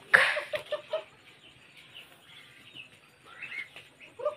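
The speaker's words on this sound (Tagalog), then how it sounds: "Mga manok." Backyard chickens and ducks at feeding time give a few short, fairly loud clucks and calls near the start, then scattered softer clucking and chirps in the background over low ambient noise.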